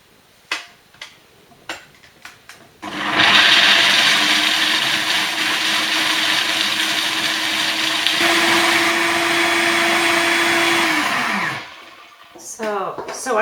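Almonds being ground into almond butter in a blender: a few clicks and knocks, then a loud steady motor whir with a rough grinding texture for about eight seconds before it winds down, followed by more handling noises.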